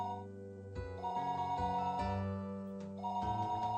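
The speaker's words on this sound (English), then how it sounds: "あら、あれは電話の音ではありません。" In the video game Higurashi When They Cry Hou, a telephone rings with repeated electronic bell tones. The ringing is steady and fairly loud over a soft musical background, with no voices.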